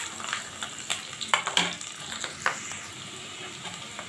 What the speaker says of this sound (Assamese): নহৰুখিনি দিয়াৰ পিছত মই এক মিনিটমান ভাজি ল'ম